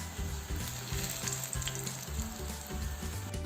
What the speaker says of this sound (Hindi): एक तरफ से फ्राई हो गया, अब दूसरी तरफ पलट दी है मैंने।